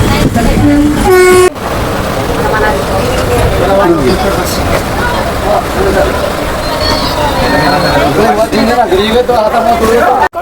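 The Adilabad Express rumbles and clatters steadily nearby at a station while people chatter around it, with a brief horn toot near the start.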